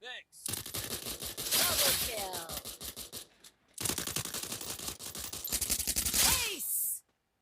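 FAMAS rifle fire in the game Free Fire comes in two long rapid automatic bursts, loud and close, separated by a short pause, with a brief sweep of game sound at the start.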